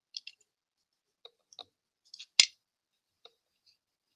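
Scissors snip paper while cutting out a paper butterfly for a card: a handful of quiet, close clicks and small cuts, with one sharper, louder snip in the middle, all separated by silence.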